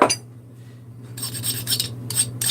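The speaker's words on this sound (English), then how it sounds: "I just make sure all the burrs and whatnot are off of here" A file rasps in rapid, short rhythmic strokes across small machined metal kit pieces to take off burrs, close and fairly loud, after a brief quiet pause over a steady low hum.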